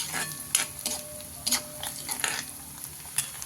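Onions frying in a pan for a dry chicken dish are stirred in a few quick bursts of scraping and clatter over a steady close sizzle, with no voices.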